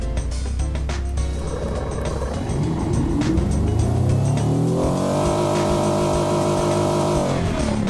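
A huge 16-litre engine with its compressor turned up to maximum revs in the car-design game Automation. It idles with a rough burble, then climbs to a loud, sustained high-rev howl that holds steady with no talk.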